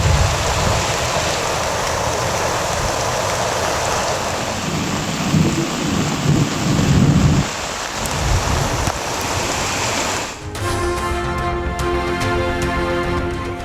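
Heavy rain pours steadily in Tamil Nadu, with a low rumble of thunder rolling underneath before the downpour shifts to a harsher, closer texture near the end.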